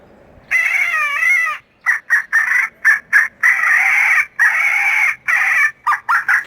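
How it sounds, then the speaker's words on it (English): A harsh, raspy woodpecker distress call from a handheld coyote-hunting caller, repeated in loud bursts with short gaps, up close and alone. "Woodpecker distress. One of the best calls out there,"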